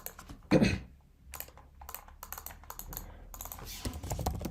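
Typing on a computer keyboard while setting up a React Native mobile app project, with irregular bursts of close key clicks and a few louder strikes, no talking.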